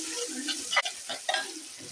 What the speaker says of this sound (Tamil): இப்போ இஞ்சி பூண்டு பேஸ்ட்டை நல்லா வதக்கி விட போகிறோம்